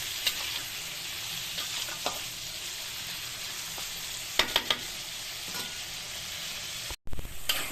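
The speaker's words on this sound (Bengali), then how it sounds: "এবার একটু হালকা করে ভেজে নেবো আলুটা" Potatoes fry lightly with salt and turmeric in a pan, a continuous close sizzle with occasional utensil scrapes and a quick cluster of clinks, no talk.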